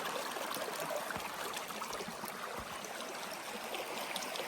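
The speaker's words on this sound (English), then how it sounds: "Hello, Sawyer Brook. Pretty cool little brook." Sawyer Brook, a small stream, flows over mossy rocks in a continuous soft babble and trickle, close by and steady, with occasional faint low knocks beneath the water.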